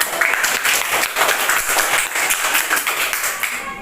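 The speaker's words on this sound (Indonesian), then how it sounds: "Tepuk tangan untuk kelompok 1" A classroom of students claps for a presenting group, dense steady applause for a few seconds that fades at the end.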